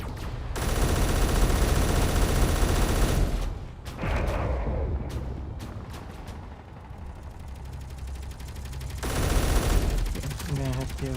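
Heavy rapid-fire turret bursts from a Thrasher unit attacking a base in a strategy video game, long loud volleys broken by sharp individual shots and a quieter stretch before the barrage resumes.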